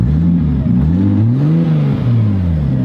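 A 2JZ-GTE swapped Lexus GS300 with its mufflers removed runs loud and close, its engine note rising and falling in short revs throughout.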